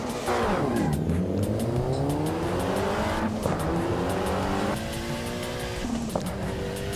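Tuned Mitsubishi Evo 6 with a very noisy turbo accelerating hard through the gears, engine revs climbing and dropping at each shift, with turbo whine and a brief tire chirp, loud and close from inside the car.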